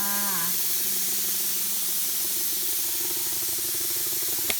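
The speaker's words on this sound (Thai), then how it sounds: "เปิดร้านตอนเช้าเราต้องฉีดสเปรย์ฆ่าเชื้อรอลูกค้าค่ะ" Alcohol disinfectant spray being sprayed in a massage room: a loud, continuous hissing spray lasting several seconds, ending with a short click.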